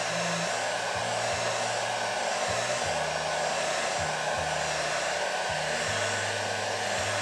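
A hair dryer runs steadily on its low heat setting, a continuous close airy whir with a few faint handling knocks beneath it.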